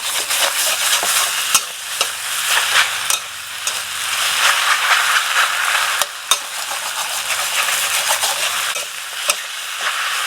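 Wide rice noodles being stir-fried with set egg in a hot wok for pad see ew, a loud continuous sizzle broken by repeated sharp scraping and tossing clatters of the spatula, with no voices.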